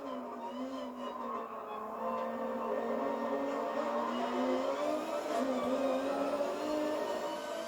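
A race car engine in the Gran Turismo Sport video game holds a steady, rising and falling whine through several gear changes. It stays loud and continuous throughout, with no one talking.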